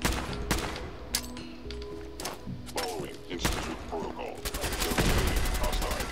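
Gunfire in Fallout 4: sharp, loud gunshots fired in irregular bursts, some in rapid strings, mixed with thuds and in-game sounds, with faint voices at times.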